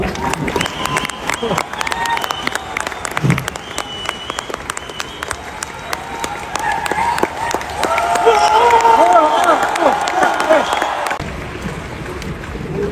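An audience at a speech breaks into sustained clapping, rising to a dense peak before stopping abruptly, with scattered voices mixed in.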